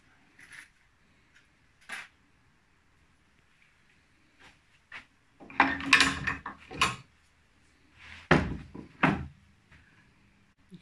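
A metal clamp dropping off a workpiece during tack welding: scattered clicks, then a cluster of clattering knocks and rattles, followed by a few more sharp metallic bangs, fairly close with quiet gaps.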